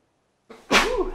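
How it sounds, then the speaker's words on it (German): A single close sneeze from a man playing Fallout 4, a short breathy intake rising into a loud burst that trails off, alone without other talk. "Und ich muss niesen."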